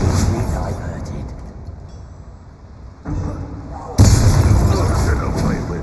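A Confringo fire spell bursts in Hogwarts Legacy with loud booming blasts, one near the start and a stronger one around the fourth second, over continuous game effects and background rumble.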